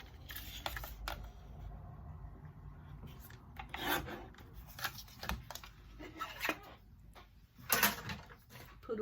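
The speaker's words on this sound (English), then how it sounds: "I'm going to bring out my trimmer" Paper trimmer slicing through cardstock during a stamping craft session, giving short irregular rasping slides and clicks, close and fairly quiet, with no talking.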